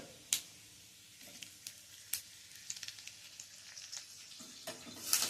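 Light sizzling and crackling as a spoonful of cumin seeds and chilli pieces fry in hot oil, with quiet pops and a few sharp spatters scattered across the clip.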